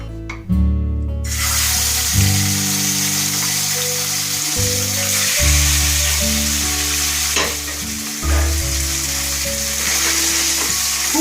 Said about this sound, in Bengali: এবার আমি মাছটাকে কিন্তু একটু ভাজবো।